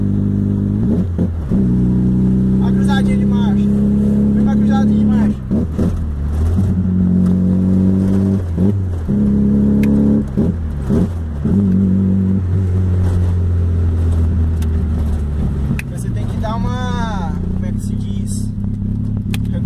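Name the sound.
VW Gol engine revving, AP 2.0 motor with sport exhaust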